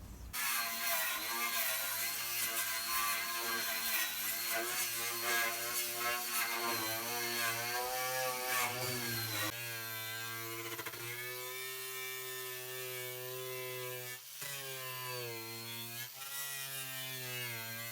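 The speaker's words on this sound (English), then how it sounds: "Just going to grind out the surface rust on these spots." An angle grinder grinds surface rust off the metal floor of a Sprinter van, a continuous loud whining drone that shifts pitch as load changes, with brief dips and no talk.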